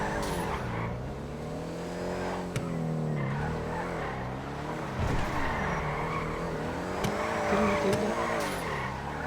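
A car drifting sideways, its engine droning with shifting pitch as the tires squeal and skid continuously, close and loud throughout, with no talk during the slide.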